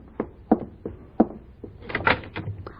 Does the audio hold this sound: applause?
no